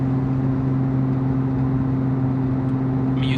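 A straight-piped Porsche GT3 engine drones steadily and loudly up close as the car accelerates on the road, with a strong, even tone throughout and no talking.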